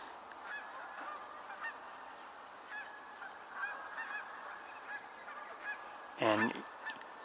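A restless flock of geese honks off and on from a distance, then one loud nearby honk stands out near the end.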